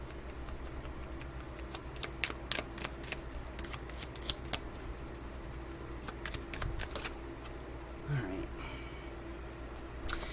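Tarot cards shuffled and drawn by hand, a series of soft, quick papery snaps and slides in a steady scatter over low background hum, close and fairly quiet.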